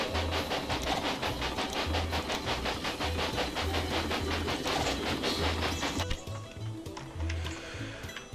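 Train locomotive running in the railway management game Railway Empire, a steady rhythmic clatter with repeating low thumps, continuous and fairly loud throughout, easing slightly near the end.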